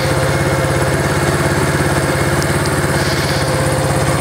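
A Yamaha SR250 single-cylinder motorcycle engine idles steadily after a cold start, its even low chugging pulse close and constant throughout with no talk.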